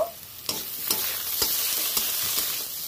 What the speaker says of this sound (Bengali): এর মধ্যে আমি টমেটো অ্যাড করে দিচ্ছি। এটা আবারও একটু ভেজে নেব।